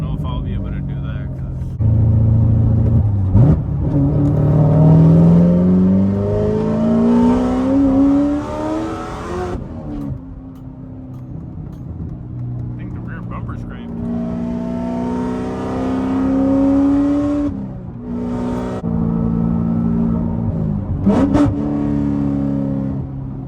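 An 800 hp manual Corvette C7 ZR1 pulls hard from inside the cabin, its V8 climbing through rising revs, dropping at gear shifts and climbing again, loud and close throughout, with someone talking over the engine.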